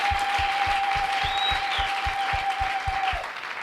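An audience at a televised choir event breaks into applause with cheering, a dense wash of clapping over a rhythmic low thumping beat and a long sustained whistle, loud and fading slightly at the end.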